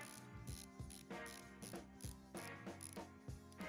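Crisp, evenly spaced ratcheting clicks from the rotating bezel of a Nezumi Corbeau chronograph watch, about a dozen sharp mechanical ticks in quick succession, close and quiet with no talking.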